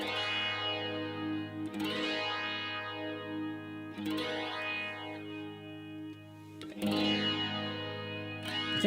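Electric guitar with heavy chorus and modulation effects rings out sustained chords, swelling and sweeping in slow waves, with a few sharp strums marking new chords, recorded through out-of-phase microphones.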